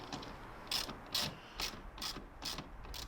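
A 13mm socket wrench tightening a bonnet strut bolt on a Clio RS197 gives a series of short, quiet ratchet clicks in about five quick bursts, close up with no talking.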